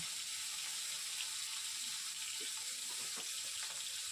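Sliced onions and potatoes frying in a pan, giving a quiet, continuous sizzle with a few light stirring clicks toward the end.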